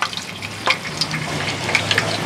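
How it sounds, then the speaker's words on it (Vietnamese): Frogs sizzle while frying in fish sauce in a pan at a rural home in the Mekong Delta, giving a steady close crackle with occasional sharper pops and stirring sounds, and no talk. "Mình chiên nó nhanh chín, cũng nhanh chín lắm."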